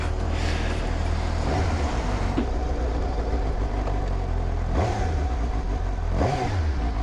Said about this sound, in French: le son d'un 4 cylindres c'est tellement beau